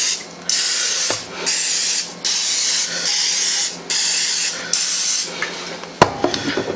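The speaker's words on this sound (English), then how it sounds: "spray this." A cooking spray can hisses into a baking tin in a series of about six steady bursts, each roughly half a second to a second long, with short pauses between, close and loud.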